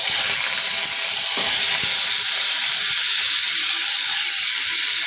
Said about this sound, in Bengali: এখন চিংড়ি মাছগুলো ভালোভাবে ভেজে নেব, সবগুলো চিংড়ি মাছ ভেজে নেব।